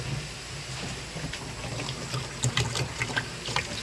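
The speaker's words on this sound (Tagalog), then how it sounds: "Lagyan ko pa siya ng tubig." Water splashes and gurgles as it is poured into a basin of laundry soaking with powder, a soft continuous flow with a few louder splashes near the end.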